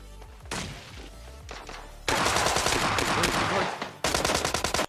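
Rapid bursts of automatic gunfire in a video game, loud and continuous, with a short pause midway before another sustained volley.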